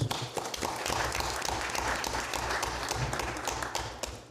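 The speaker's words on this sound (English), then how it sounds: "another round of applause, please" Applause fills a city council meeting in Mableton as the audience claps for an honoured volunteer. The clapping is dense and sustained and fades slightly at the end, with faint voices underneath.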